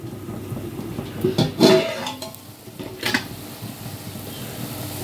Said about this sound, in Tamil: இது கொஞ்சம் பொரிய விடலாம்.